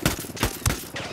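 Rapid gunfire from a Ghost Recon Wildlands firefight comes as three sharp, close, loud shots in quick succession within about a second, with no talk over them.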